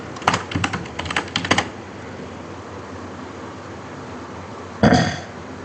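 Computer keyboard keys tapped while coding during a live backend programming session: a quick flurry of clicks over the first seconds, then a lull with fan-like room hiss, and one more short burst of keystrokes near the end.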